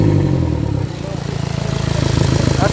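An Iveco 35S14 van diesel with an EGR fault drops from a revving roar back to a steady, close, rhythmic idle clatter after the throttle is released.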